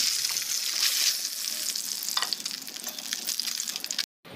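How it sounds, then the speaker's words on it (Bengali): Bay leaf, cumin, black cumin, radhuni and onion fry in hot oil with a loud, steady, close hiss and crackle. It runs unbroken, then cuts out abruptly just before the end. "গোটা জিরা, কালো জিরা, রাঁধুনি সস, অল্প পেঁয়াজ দিয়ে এবার ভেজে নিলাম"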